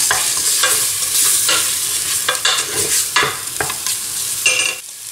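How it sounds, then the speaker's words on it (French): Veal being stirred in a hot pan after a spoonful of white flour is sprinkled over it, giving a steady close sizzle broken by repeated scraping strokes of a spoon, with no talking. "je vais saupoudrer avec une grande cuillère de farine blanche. Et je continue à remuer pendant 1 minute."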